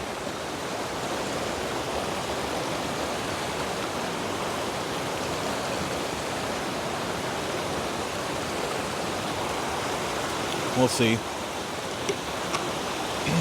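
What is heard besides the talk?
river flowing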